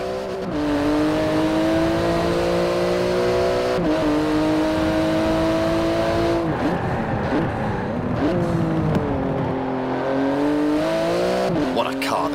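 A 700-horsepower 3.8-litre twin-turbo flat-six carbon-fibre car in Forza Horizon 4 accelerates hard with a loud, close engine note rising through the gears, brief drops at shifts, and tire squeal.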